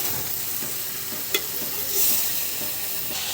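Rohu fish and papaya curry frying in a pan with salt being stirred in, a soft continuous sizzle with an occasional scrape of the spoon, no talking.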